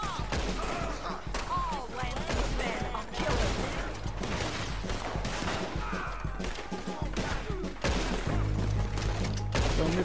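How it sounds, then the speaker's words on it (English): Red Dead Online gunfire fills a mission, with dense volleys of rapid shots and thuds cracking continuously under a background music bed, mid-distance and sustained throughout. "LeClerk is shooting as well."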